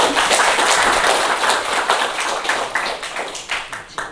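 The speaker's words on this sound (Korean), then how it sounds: "박수 한번 주실래요?" Seminar attendees clap together in a quick burst that starts dense and loud, then thins out into scattered, fading individual claps over a few seconds.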